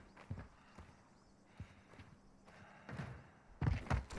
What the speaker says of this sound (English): I hear a footstep on our left-hand side